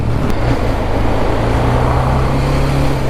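A BMW G310R 310cc single-cylinder motorcycle runs steadily with a low, constant engine drone, loud and close, over a continuous roar with no clear rev changes.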